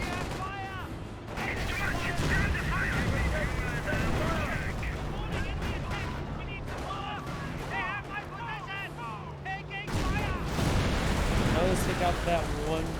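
Tank and artillery fire in a Company of Heroes match, with a dense, continuous roll of gunfire, booms and explosions filling the background and a louder surge near the end, while people talk over it.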